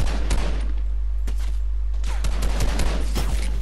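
Rapid bursts of gunfire in the video game Fortnite, sharp repeated shots in quick clusters over a loud, steady low background hum.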